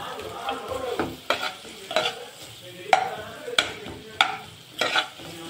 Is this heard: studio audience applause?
no